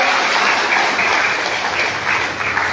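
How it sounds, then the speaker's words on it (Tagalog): Congregation at a Thanksgiving worship service applauding, a dense, continuous wash of clapping that stays loud and even from start to end. "Bigyan nga po natin ang pinakamalakas na palakpak ang ating Diyos sa Panginoon."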